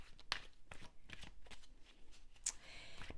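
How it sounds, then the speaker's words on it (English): Jumbo-sized cards riffled and shuffled in several quick bursts, close by, with soft crisp flutters and taps between them. "I also prefer to have jumper cards, so that takes a little while to shuffle"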